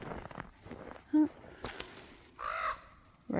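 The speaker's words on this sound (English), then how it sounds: "Raven." A raven croaks once, then gives a longer, hoarse call a moment later, somewhat distant over faint rustling and a brief voice.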